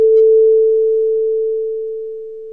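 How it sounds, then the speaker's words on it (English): A single steady pure tone, the isolated second partial of a piano note generated by the Pianoscope tuning app on an iPhone, holds evenly for a couple of seconds and slowly fades. "Pianoscope will isolate that partial from the recorded sound for me."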